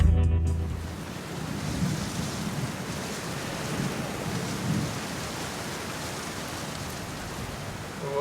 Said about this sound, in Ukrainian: Ми прокинулися вранці, а погодка непривітна. Дощ, хмари.